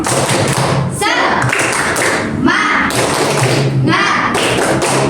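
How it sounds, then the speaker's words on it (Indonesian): A classroom does a rhythmic encouragement clap, the tepuk semangat, with sharp patterned bursts of hand claps and thumps. Children's voices chant along between the beats. "Kita beri tepuk dulu. Tepuk semangat."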